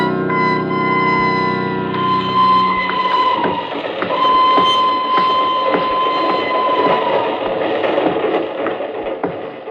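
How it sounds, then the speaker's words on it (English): Moving train in a radio drama, bound for Bern: a steady rolling rumble with a sustained whistle-like tone and faint rhythmic clicks, continuous and moderately loud throughout with no talk. "I'm leaving on the train to Bern."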